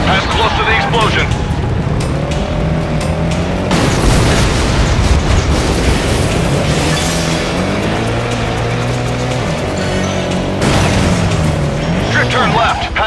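Explosions rumble and roar in the Stuntman Ignition video game amid loud engine noise from a speeding vehicle, with booming bursts near four and eleven seconds and a continuous heavy drone.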